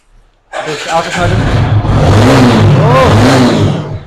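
A motorcycle engine at a used-bike showroom starts abruptly from near silence, then revs loudly and close in rising and falling surges that hold strong to the end.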